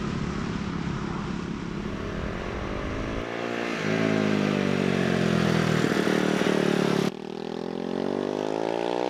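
A Fantic Caballero Scrambler 500 Deluxe motorcycle accelerates hard from the rider's position, its engine note rising steadily through the revs before a gear change drops the pitch and it climbs again, loud and continuous over wind rush.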